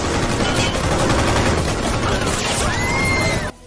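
Rapid, continuous gunfire rattles loudly throughout, overlapping bursts forming a dense volley with mechanical clatter, cutting off abruptly at the end.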